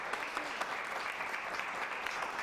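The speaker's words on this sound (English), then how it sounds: "Let's have one more round of applause for our speaker" Steady applause from a seated audience at the close of a stress management talk, dense and even throughout with no voices on top.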